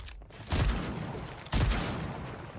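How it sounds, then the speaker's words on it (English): Two sharp, loud gunshot cracks about a second apart, each trailing into a short rumbling echo, from sniper fire in the Fortnite game, heard alone without talk. "Getting sniped at or something."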